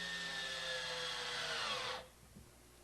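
A power driver sinks screws into a boat's mid bulkhead in a whirring burst that climbs in pitch and then cuts off sharply, followed by a faint clunk.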